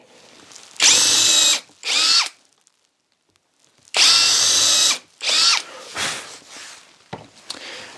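A power drill pre-drills holes in the end of a wooden bed rail, with two pairs of loud whirring bursts split by a silent gap, followed by softer handling noise.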